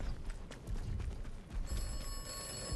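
An old telephone bell rings repeatedly in the video game Atomfall, a close, insistent metallic trill that continues throughout with no talking over it.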